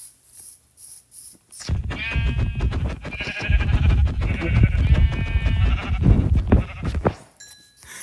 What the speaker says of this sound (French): J'ai 2 moutons.